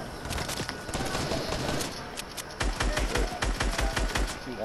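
Video game gunfire from enemies shooting up on a hill crackles in rapid automatic bursts, growing denser and louder in the second half, with scattered individual shots at moderate distance.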